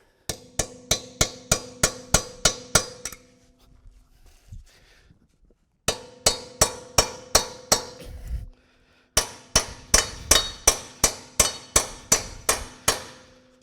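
A hammer pounds a 16 millimeter socket extractor onto a stuck nut, landing three quick runs of sharp metallic strikes, each a steady series of evenly spaced, ringing blows, close and loud, with short pauses between runs.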